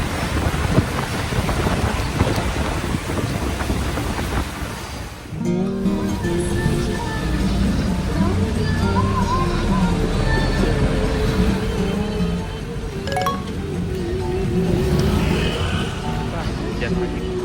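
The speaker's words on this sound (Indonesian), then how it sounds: "Hujan lagi." Rain falls during a bus trip from Purbalingga to Pemalang over hill roads, a continuous broadband hiss under the drone of the bus, with a brief dip partway through and occasional clicks and speech-like tones mixed in.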